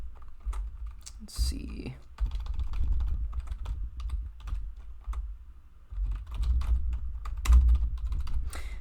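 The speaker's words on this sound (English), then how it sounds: "I'm writing all of this stuff on my crappy HP keyboard" Fingers type steadily on a cheap HP computer keyboard, a dense run of close clacking keystrokes with short pauses, while someone briefly speaks.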